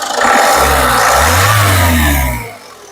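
A 2013 Ford EcoSport Titanium Plus engine revs hard as the accelerator is pressed, a loud close rising roar held briefly before dropping off toward idle, no speech.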